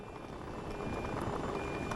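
Inside the cabin of a nearly empty airliner in flight, a constant broadband roar fills the space, steady and even throughout without any voices.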